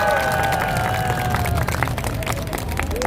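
A crowd at a political rally applauds loudly and steadily amid cheering voices and overlapping talk, with a tonal hum or music line running underneath.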